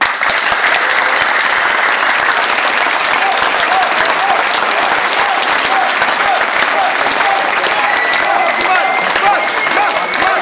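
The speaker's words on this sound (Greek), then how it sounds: "είτε ζουν είτε όχι αξίζουν ένα χειροκρότημα" Audience bursts into sustained, loud applause at a live show, dense clapping holding steady for about ten seconds with a few cheers mixed in.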